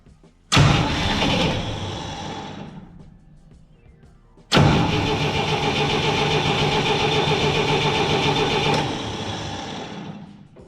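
A 1963 Dodge D100 pickup with the choke pulled, engine cranking and catching twice, the second time settling into a loud steady idle with a noisy rocker before cutting off, no talking.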